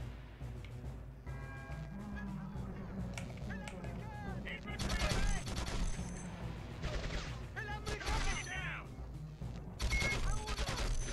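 Rapid gunfire rattles through a Desert Storm Conflict video game, with bursts of automatic shots and single cracks over a constant low rumble of battle noise.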